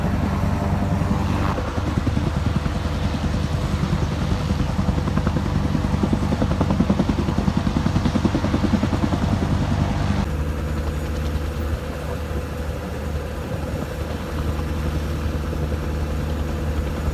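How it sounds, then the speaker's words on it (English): A helicopter runs close by with a loud, steady engine and rotor thrum that shifts in tone partway through as it lifts off, continuous and unbroken with no talking. "Watching a helicopter take off"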